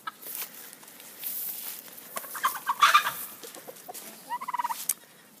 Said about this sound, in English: they took up with this Dharma Rooster here